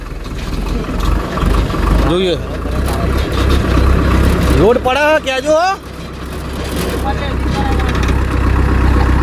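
A farm tractor engine rumbles steadily at idle in an open field, a low continuous drone running throughout while people talk nearby over it.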